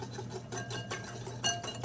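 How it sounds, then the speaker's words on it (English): Cake batter for a pineapple upside-down cake whisked in a bowl in a home kitchen, a quiet run of rhythmic clinking and scraping strokes up close, with no talking. "I'm just going to whisk it a little bit"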